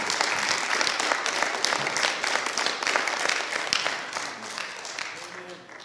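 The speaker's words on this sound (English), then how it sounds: "give the Lord a hand clap of praise" A church congregation claps in praise during a worship service, dense and steady applause filling the room before gradually thinning out, with voices rising faintly underneath toward the end.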